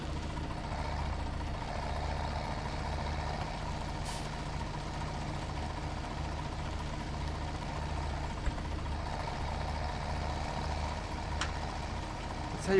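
A tractor engine idles steadily in Farming Simulator 17, a low continuous rumble that holds at a constant level throughout with no talking.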